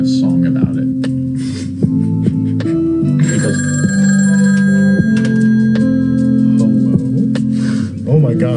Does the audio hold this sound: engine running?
no